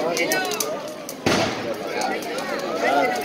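Sharp popping cracks of firecrackers burst through a lively crowd at a Fallas crema in Puerto de Sagunto, Valencia, with one loud bang standing out among scattered smaller pops and people shouting nearby.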